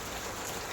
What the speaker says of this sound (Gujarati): એટલો બધો વરસાદ છે